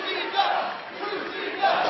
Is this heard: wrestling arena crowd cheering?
yes